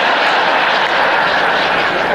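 A plane taking off from Tampa just before Hurricane Irma, heard as a loud, steady, broad roar of aircraft engines filling the whole moment with no pauses and no voices.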